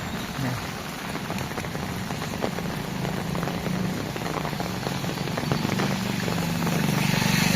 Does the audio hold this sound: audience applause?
no